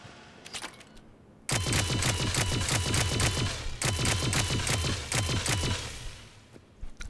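Geth Plasma SMG from Mass Effect 3's Firefight DLC firing in rapid, evenly spaced automatic bursts, two long strings of sharp clicking shots, loud and close, with a few isolated shots before them.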